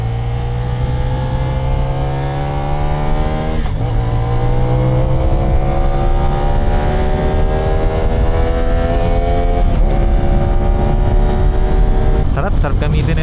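A 450NK motorcycle accelerates hard while being ridden, its engine climbing steadily through several gears with brief dips at each shift, loud and continuous under wind noise.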